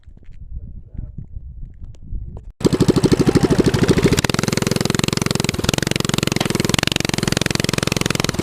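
A small mini bike engine starts after some quiet rustling, then runs close by at a fast, even putter with a steady throbbing pulse that holds to the end.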